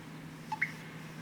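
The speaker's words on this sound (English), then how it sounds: "That's the sound of somebody texting me." A phone text message notification, two quick soft dripping tones rising in pitch, faint and brief over quiet outdoor background.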